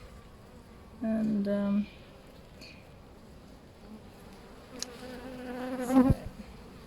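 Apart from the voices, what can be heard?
honeybees buzzing during hive inspection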